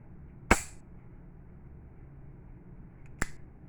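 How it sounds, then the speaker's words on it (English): Two sharp, isolated mechanical clicks from a revolver worked in single action, the trigger releasing an already-cocked hammer, spaced about three seconds apart over a quiet room background. "Now you can see the long trigger pull with the double action, but with single action, it's already set."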